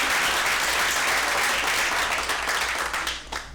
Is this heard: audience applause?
yes